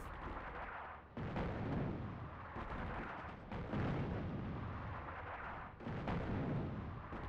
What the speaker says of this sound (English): Those airstrikes are not helping me.